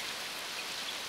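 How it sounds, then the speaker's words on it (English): A short burst of steady, even rainfall hisses softly as a cartoon sound effect, with no voices over it. "It's raining!"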